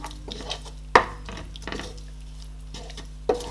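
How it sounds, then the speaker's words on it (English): Prawn fried rice is stirred with thyme and salt in a pot, the spoon giving a few sharp scrapes and knocks against the metal among soft shuffling, with one louder clank near the start and another near the end. "I am going to mix everything together."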